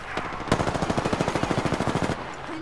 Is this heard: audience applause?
no